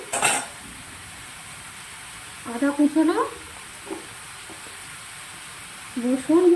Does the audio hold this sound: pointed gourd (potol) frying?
yes